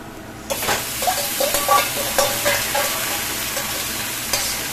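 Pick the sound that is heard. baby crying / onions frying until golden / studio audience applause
onions frying until golden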